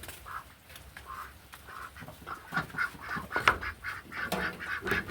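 Laying ducks quack repeatedly nearby, a steady chorus of nasal calls that grows busier and louder over several seconds.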